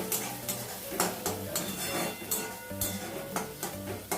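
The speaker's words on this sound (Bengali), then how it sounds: "পেঁয়াজটাকে ব্রাউন করে ভেজে নেব।" Two medium onions, finely chopped, fry in oil in a pan with a soft sizzle under repeated scraping and clinking as they are stirred, the stirring strokes coming in an uneven rhythm.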